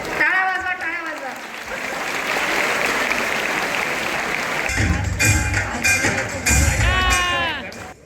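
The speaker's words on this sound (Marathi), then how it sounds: "टाळ्या वाजवा टाळ्या वाजवा" Clapping rises from a crowd at a lucky draw ceremony held during a student felicitation event in Thane, a steady roomful of applause that swells in the middle while voices and a loudspeaker announcer talk at either end.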